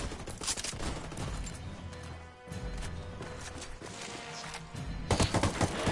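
Rapid bursts of shooting in a jungle first-person shooter, including shotgun blasts, crackle through the whole stretch with dense overlapping shots and a brief lull midway before heavy firing resumes.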